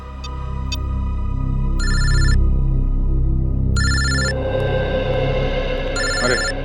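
A telephone rings in a CID crime drama scene, giving three loud electronic bursts with short gaps between them and a low musical score running underneath.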